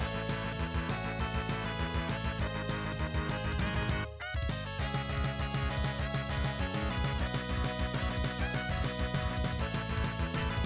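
Video game music built on a general MIDI guitar sound from a MIDI keyboard and FL Studio, dense and continuous with one brief dropout midway, steady in level throughout.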